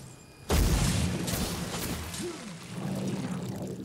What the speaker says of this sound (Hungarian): itt valami nagyon robbant